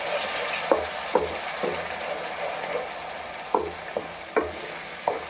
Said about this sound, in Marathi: आणि परत हा मसाला छान असा भाजून घेते